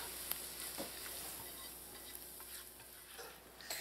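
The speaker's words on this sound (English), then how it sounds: "I'm just going to mix that in" Sautéed mixture being stirred into mashed potato for a potato cake, giving soft, faint stirring and scraping sounds with a light sizzle-like hiss throughout and a few small clicks.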